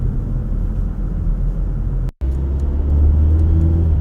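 A car idles and pulls away through a traffic light on a suburban Michigan road between Sterling Heights and Shelby Township, with a steady low engine rumble, a brief cut midway, then a swelling drone as it accelerates.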